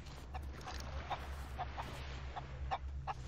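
Chicken in a video game clucking in short, repeated bursts over a low steady hum, moderately close and fairly quiet.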